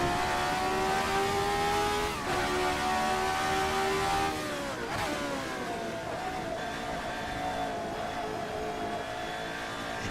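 An RSS Formula 79 racing car engine in a racing game revs hard under power, its pitch climbing through gears with shifts, then settling into a steady high drone, loud and close.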